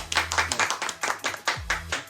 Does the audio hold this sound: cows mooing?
no